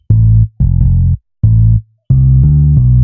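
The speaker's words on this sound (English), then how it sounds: "this other sound from Nexus, it's from the bass expansion preset" A Nexus bass expansion preset synth plays short, punchy, loud low notes in a stop-start pattern, with a final longer sustained chord, clean and alone.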